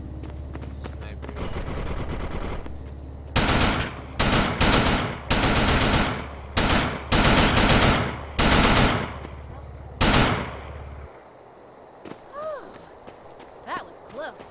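Sentry guns in the video game Defiance fire in loud, close bursts of rapid automatic gunfire, several separate volleys in quick succession, then fade to quieter game sounds.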